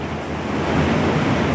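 Sea surf rolling ashore at sunrise with wind buffeting the microphone, a continuous loud wash of waves and no voices.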